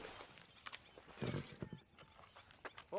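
A horse in the video game Red Dead Redemption 2 clops its hooves, with a brief neigh rising near the end, all fairly quiet over soft game ambience.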